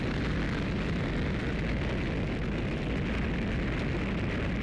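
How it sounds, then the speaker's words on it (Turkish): A rocket launches into Earth orbit carrying a satellite in the video game Black Mesa, a loud, continuous broadband roar that holds steady and close from start to finish. "Dünyanın yörüngesine bir roket yolluyoruz."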